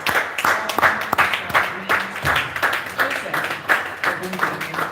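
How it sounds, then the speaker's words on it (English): Applause at a live real estate event, a round of clapping that rises and falls in waves with a voice talking over it. "Please, with a resounding round of applause."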